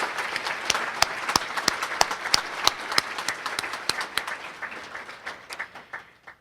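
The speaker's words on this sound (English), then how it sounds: "How about a big round of applause for our table sponsors?" A banquet audience at a sports hall of fame induction dinner gives a round of applause for table sponsors: sharp, fairly close claps in a brisk burst that thins out and fades toward the end.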